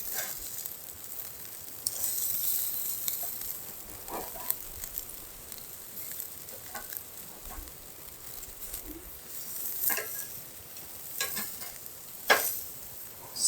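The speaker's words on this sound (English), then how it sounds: "Now we just gotta wait for the steaks to finish. Let's turn them one more time." Small steaks sear and sizzle over an outdoor campfire at night, a steady crackling hiss broken by occasional taps and scrapes as they are turned.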